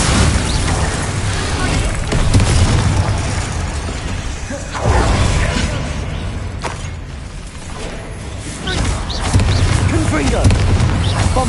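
Explosive spells Bombarda and Confringo cast in the video game Hogwarts Legacy, a run of loud booms, crashes and shattering blasts that swell and fade, with voices calling out among them.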